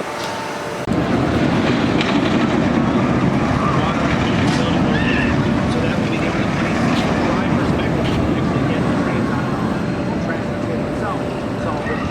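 A loud, steady mechanical rumble and rattle of the Wonder Woman Golden Lasso Coaster train accelerating on track at Six Flags Fiesta Texas, sustained throughout with faint voices in the background.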